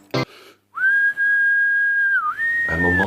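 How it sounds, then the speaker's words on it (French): A single long, clear whistle blast holds a steady pitch with a brief dip near the end, loud and close, with a short sharp sound before it and a noisy clatter after. "Prends ce sifflet qui, c'est sûr, sur toi sera efficace. C'est simple. Il suffit de souffler."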